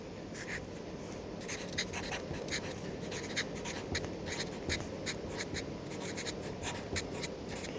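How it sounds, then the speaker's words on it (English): Handwritten notes on paper, a steady close-up scratching of pen strokes with rhythmic short bursts continuing throughout over a faint room hum. "we'll just write that down"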